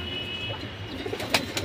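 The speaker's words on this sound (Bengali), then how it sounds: "এগুলা ছাড়া ছাড়া লাইনের কবুতর মাশাল্লাহ" Silver pigeons give a brief, low cooing, close and fairly quiet, with no talking.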